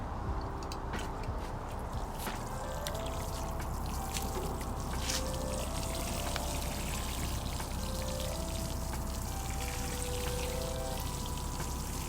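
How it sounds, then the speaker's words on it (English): Water pours steadily onto potting soil in a container holding a citrus tree, a soft continuous splashing trickle, quiet and close, with no talk. "as soon as we water it, the product's gonna start working its way down."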